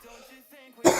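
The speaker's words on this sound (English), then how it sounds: "Sorry about that cough." A single short, sharp cough bursts out near the end, close and loud, after a stretch of faint voiced throat sounds.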